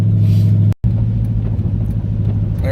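A 2005 Dodge Magnum R/T fitted with Scat Pack headers cruises at about 50 mph, giving a steady low engine drone and road rumble heard from inside the car, with one brief dropout in the middle.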